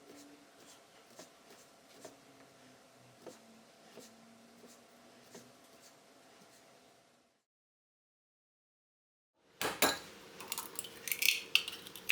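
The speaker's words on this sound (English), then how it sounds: "slice the frankfurters. I cut them into rounds." A knife slices pork frankfurters into rounds on a board, giving a series of soft, evenly spaced taps, then a pause and a louder, busier clatter.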